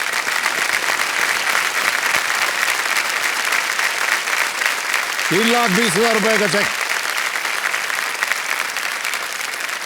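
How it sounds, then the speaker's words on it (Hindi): Studio audience on the KBC game show applauding steadily after a contestant wins ₹3,20,000, continuous dense clapping throughout, with a voice speaking briefly over it. "तालियां बज जाएं इनके लिए"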